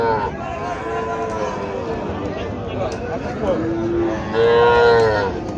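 Native cattle moo repeatedly at a Dinajpur calf market, with long low calls rising near the end over busy crowd chatter and people talking.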